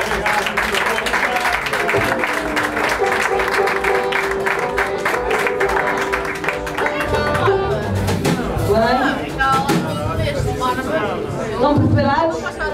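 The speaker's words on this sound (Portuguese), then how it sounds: "uma salvinha de palmas para eles" Applause from an audience at a live show breaks out and carries on steadily, mixed with crowd chatter and children's voices, while a voice speaks over it.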